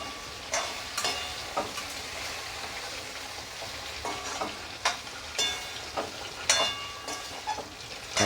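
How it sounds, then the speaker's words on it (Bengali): Bhetki fish fillets frying lightly over low heat in a pan for a wedding-style kalia, a steady close sizzle broken by sharp crackles and pops, no voices. "আমি হালকা করে ভাজছি"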